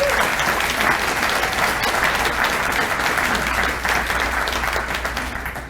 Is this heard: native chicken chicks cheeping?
no